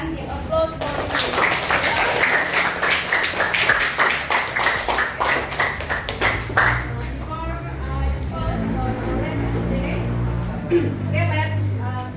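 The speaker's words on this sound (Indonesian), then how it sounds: "Sekali lagi kita beri tepuk tangan" A class of students claps together during a classroom lesson, a quick burst of brisk clapping for several seconds that stops abruptly and gives way to quieter room sound.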